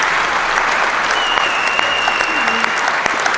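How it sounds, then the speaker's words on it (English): A large audience at a motivational speech applauds loudly and steadily, dense clapping filling the room throughout, with a faint tone sounding briefly in the background. "a huge applause for these gentlemen"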